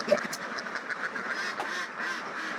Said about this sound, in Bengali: আসলে হাঁসে অনেক ছোটাছুটি করছে